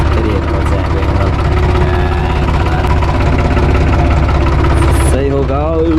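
A tractor engine runs steadily up close at a loud, constant idle with a low, throbbing rumble. A brief voice is heard near the end.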